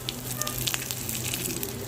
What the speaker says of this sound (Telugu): తాలింపు పెట్టేసుకొని కొంచెం ఒక 4 స్పూన్ల ఆయిల్, తాలింపు గింజలు, 2 ఎండుమిర్చి వేసుకుందాం